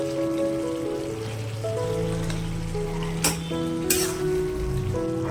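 Chicken keema simmering in an open pan as it is stirred, a steady soft sizzle and bubbling crackle throughout, with a couple of sharp clinks from the spoon against the pan.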